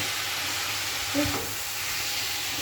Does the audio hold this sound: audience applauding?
no